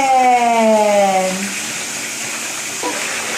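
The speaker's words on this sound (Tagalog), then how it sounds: "Gusto talaga yung nakatodo ang tubig." A shower in a child's bath runs wide open, a steady broadband rush of water throughout, with a voice near the start and a brief change in flow toward the end.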